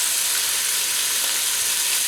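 Mushrooms browning in a pan for a creamy mushroom velouté, with two garlic cloves in with them, give a constant loud close sizzle with no break, nobody speaking over it.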